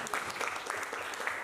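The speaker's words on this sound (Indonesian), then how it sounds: "Baik, tepuk tangan untuk kita semuanya." A classroom of students claps together in a brief, steady burst of applause that comes across fairly quiet and slightly distant.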